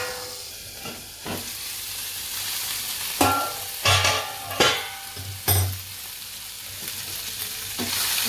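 Tomatoes fry in a pan for poha with a steady close sizzle, broken by several sharp scraping strokes of a spoon stirring them around.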